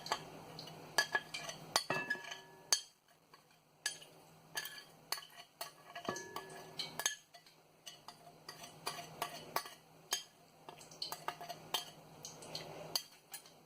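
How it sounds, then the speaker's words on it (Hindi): Dry ingredients for onion bhaji tipped into a mixing bowl, giving a run of light clinks, taps and rustling knocks of utensils against the bowl, close and fairly quiet with short pauses between. "अब मैं इसमें सारे ये जितने भी ड्राई इंग्रेडिएंट हैं ना, ये सारे डाल रही हूँ, एक साथ ही डालूंगी।"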